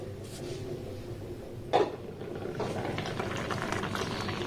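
Raw mango pickle bubbles and simmers in a covered pot, a steady close gurgling hiss with one brief clattering knock near the middle.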